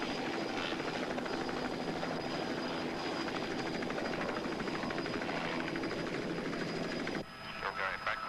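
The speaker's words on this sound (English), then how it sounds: "Turning the helicopter by use of left pedal this time." Helicopter in flight turning on left tail-rotor pedal input while moving backwards toward its landing spot; steady loud rotor and engine roar fills the clip, dropping abruptly near the end.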